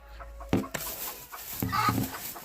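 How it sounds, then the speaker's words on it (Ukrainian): A black Cochin hen sitting on eggs clucks in short, close bursts, with a few sharper notes mixed among low murmuring calls and a bit of farmyard background. "тепер у нас тут курочка сидить, чорненька дочка Кохінхіна"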